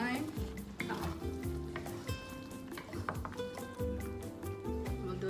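Pork laing simmering in a pot is stirred with a utensil, giving repeated close scraping and clinking strokes over a continuous bubbling sizzle, steady and moderately loud throughout.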